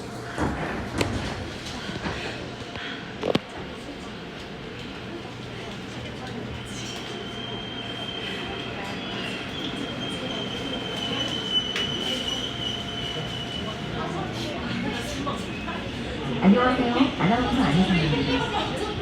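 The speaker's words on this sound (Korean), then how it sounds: "열차가 곧 출발합니다." A Busan Metro Line 1 subway train, a new car set, departs and runs between Jangjeon and Pusan National University stations, with steady rolling wheel rumble, a brief high squeal and clanks, and a voice announcement heard over it.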